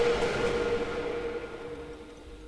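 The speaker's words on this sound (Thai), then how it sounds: "มันคือ รถไฟล้าง โอ้โห เป็นแบบรถไฟโทมัส" A Thomas-style ghost train in the horror game The Tunnel sounds a loud, sustained whistle-like tone over a rumbling rail noise, both fading gradually toward the end, with no talking.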